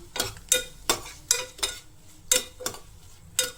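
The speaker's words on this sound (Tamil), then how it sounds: "இதுக்கு தேவையான அளவு சால்ட் போட்டு நம்ம இந்த நெய்யிலே ஒரு 3 மினிட்ஸ் நம்ம வதக்கலாம்" Vegetables stirred and sautéing in ghee in a pan, with regular sharp scraping strokes of a spoon about every half second over a soft sizzle, close and clear.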